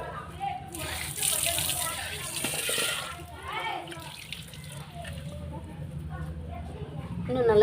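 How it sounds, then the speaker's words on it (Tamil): Water poured a little at a time over kitchen vessels being scrubbed clean for Pongal, splashing and running steadily under a voice talking throughout. "இப்போ நான் கொஞ்சமாக தண்ணி ஊற்றி பார்க்குறேன்."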